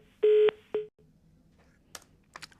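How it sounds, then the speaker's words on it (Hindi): Telephone tones sound as a caller's phone disconnects during a stock market call-in programme: a long electronic beep, then a shorter one, followed by faint clicks in a quiet line. "प्रिया का मेरे ख्याल से यहाँ पर फ़ोन डिस्कनेक्ट हो गया है"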